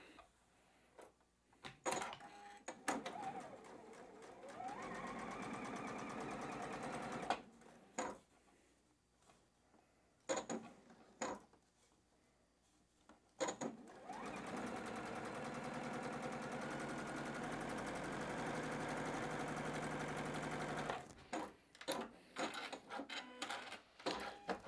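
A sewing machine joins fabric strip sets for a nine-patch quilt, running in two long steady bursts of rapid stitching, with short starts, stops and handling noises between them, close and fairly loud.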